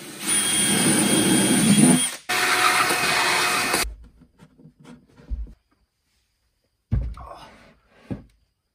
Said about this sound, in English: we're gonna have to drill a hole in the box to run the wires through